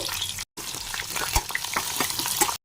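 Potato and cauliflower fry in ghee with a little white oil, cumin, dried red chillies and bay leaf in a pan, giving a steady close crackling sizzle with a brief silent break, no voices over it.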